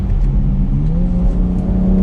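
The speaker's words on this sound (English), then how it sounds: "you can hear that exhaust in the shifts" Exhaust of a 2021 BMW X3 M Competition rises through a quick gear change, a close, steady drone with pitch stepping up smoothly, no voices over it.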